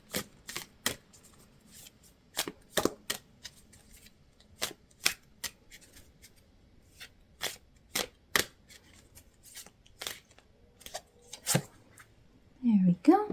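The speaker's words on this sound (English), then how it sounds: "So as I'm shuffling out these cards" Tarot cards being shuffled in crisp, irregular bursts of snapping riffles separated by quiet gaps, close up; a voice briefly starts at the very end.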